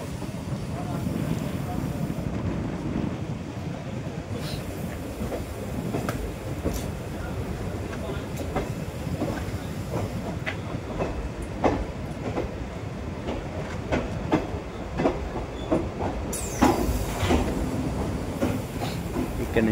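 The Guntur–Aurangabad Express, number 17253, rolling into Aurangabad station forty minutes late, its wheels clicking steadily over rail joints for a long stretch, with a brief squeal near the end and voices murmuring throughout.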